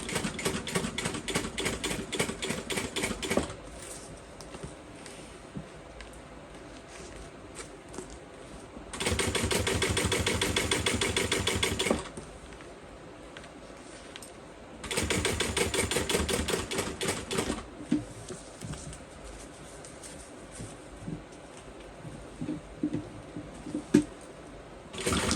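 A sewing machine top-stitches a canvas and vinyl bag in two sustained bursts of rapid whirring, with slower clicking and ticking stitches between them, close and clear.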